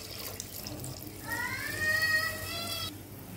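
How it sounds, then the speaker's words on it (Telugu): Water pours from a vessel into a pot of rice for pot chicken biryani, a steady splashing stream that swells for about a second and a half and then stops, over faint room noise. "ఇందులో బియ్యం బియ్యానికి సరిపడా నీళ్లు కూడా పోసుకోవాలి"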